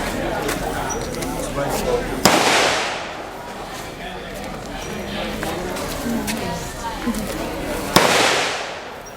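AK-47 rifle fire at the Cu Chi Tunnels shooting range, heard as two sharp distant-sounding gunshots about six seconds apart with echoing decay, over background crowd chatter.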